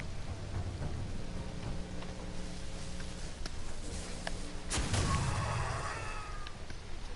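Thunder and steady rain during a lightning storm in a PS4 video game, with continuous rain hiss and a sharp crack of thunder rumbling near the middle, all under game music.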